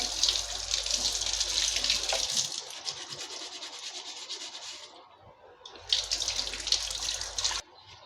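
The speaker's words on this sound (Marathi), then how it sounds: "असं सगळं लाल पाणी निघतंय" Water from a tap runs while a clay pot is washed and rubbed, a hissing stream that drops out briefly mid-way and resumes before stopping near the end; close and moderate, no speech.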